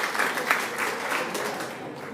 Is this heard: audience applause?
yes